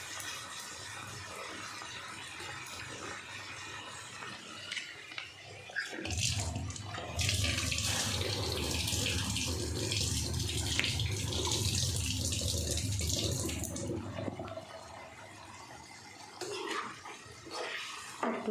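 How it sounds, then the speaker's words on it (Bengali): Water pours into a cooking pot of vegetables with lentils, starting as a faint trickle, then swelling into a steady, fuller rush for several seconds before easing off, nearby and quiet. "একটু জল দিয়ে দিলাম।"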